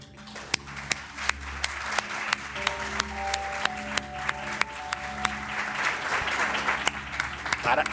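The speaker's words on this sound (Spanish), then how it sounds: "me gustaría que dieran un gran aplauso a Pedro Angosto" Applause from an audience at a talk on Lovecraft, poetry and the gods, dense steady clapping through the whole stretch with sharper individual claps standing out, fairly close and loud, with a little voice murmur in the room.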